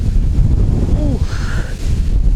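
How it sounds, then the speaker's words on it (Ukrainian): Strong wind buffets the microphone with low, gusty roaring on a fishing boat, while a voice briefly calls out over it. "вітер такий здійнявся, просто труба"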